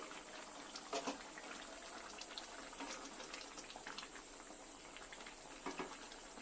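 Chicken kofta curry bubbling in a covered pot, a steady soft broadband simmer with faint patter and a few louder bubbling bursts, close and continuous with no talk.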